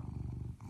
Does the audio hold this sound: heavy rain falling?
no